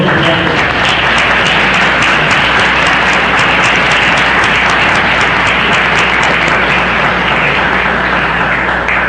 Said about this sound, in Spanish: a quien recibiremos con un caluroso aplauso